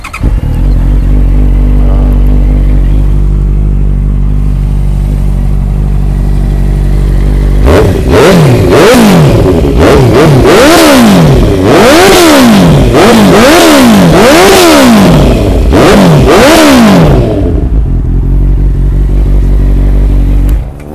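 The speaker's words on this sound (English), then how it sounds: "bunyi engine semua cantik lagi" A 2015 Honda CB650F four-cylinder motorcycle engine idles steadily, then revs hard in a series of rising and falling bursts before settling back to idle; loud and close.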